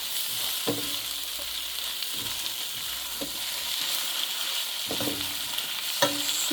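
Acacia leaves and egg frying in a pan, a steady sizzle throughout with a few short scrapes of stirring, close and moderately loud.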